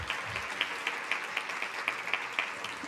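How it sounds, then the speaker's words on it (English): Audience applause after a conversation, a steady patter of many hands clapping at moderate volume with a faint regular ticking running through it and no talk. "how about another round of applause for a wonderful conversation?"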